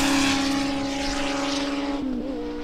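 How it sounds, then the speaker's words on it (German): A single motorcycle passes by outdoors near a parked Ford Focus ST, a steady engine drone with tonal hum that holds for about two seconds, then bends downward in pitch as it moves away. "Jetzt kommt noch ein Motorrad vorbei."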